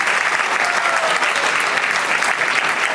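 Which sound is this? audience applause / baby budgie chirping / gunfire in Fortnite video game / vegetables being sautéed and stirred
audience applause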